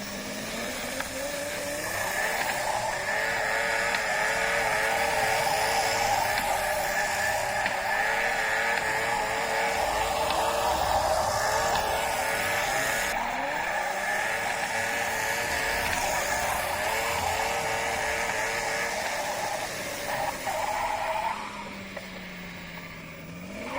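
A small blue Sturmkind DR!FT RC drift racer runs on a white track, its electric motor giving a steady, continuous whine that wavers in pitch as it drifts around, close and fairly loud with no talking.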